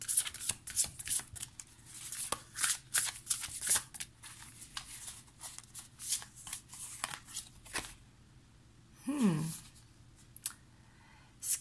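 A tarot-style card deck is shuffled by hand for a card reading, producing rapid, close riffling and flicking bursts over quiet background sound. A soft voice comes briefly near the end.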